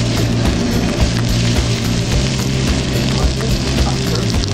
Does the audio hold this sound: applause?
no